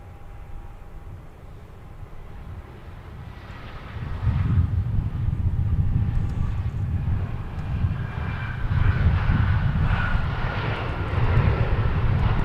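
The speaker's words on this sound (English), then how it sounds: "Comes our United arrival from Denver." A United airliner arriving from Denver at Minneapolis–St. Paul airport roars past, its jet engine rumble swelling from a distant drone into a loud, sustained low roar.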